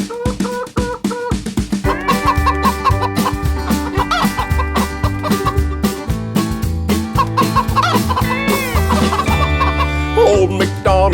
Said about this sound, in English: And on his farm he has a chicken